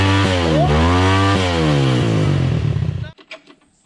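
A trail motorcycle on an enduro ride revs loud and close, its engine pitch rising and falling for about three seconds before cutting off abruptly, leaving faint background noise.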